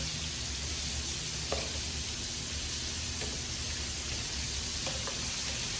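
Chicken frying in hot oil gives a steady, even sizzle from start to finish, with a few faint ticks above the constant hiss and no talking.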